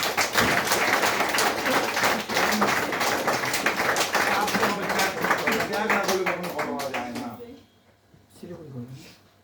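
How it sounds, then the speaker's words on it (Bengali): Loud audience applause and clapping fill a summit hall, dense and sustained for several seconds before tapering off abruptly, with some voices mixed in. "সবার জন্য জোরদার হাত তালি।"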